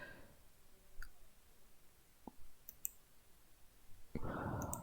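Sparse, faint mouse clicks sound in a quiet room while a door in a FNAF fan game is being built in Unity, followed by a louder burst of noise near the end.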